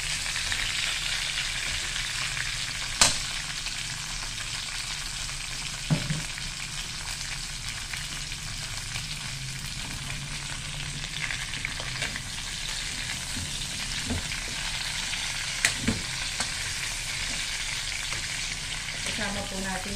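Fried pork belly pieces being stirred in a hot pan while cooking estofado, giving a steady close-up sizzle with a few sharp clacks from the utensil against the pan.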